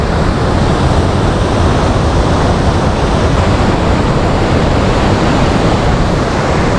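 Ripple Falls waterfall in Munnar pours in a dense, unbroken roar of rushing water, loud and close with no pauses, with some wind mixed in.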